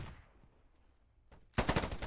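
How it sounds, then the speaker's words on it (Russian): Two shooters fire at once in the video game POLYGON: after a quiet stretch with faint distant shots, a loud rapid automatic burst erupts and continues to the end. "Там может двое стреляют одновременно."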